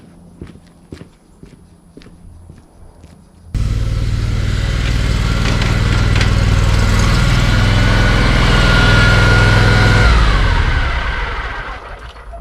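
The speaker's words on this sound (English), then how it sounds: "The lawnmower." After some light clicks and shuffling, a Skag Tiger Cat 2 riding mower engine starts abruptly and runs loud and steady at close range, then begins winding down near the end.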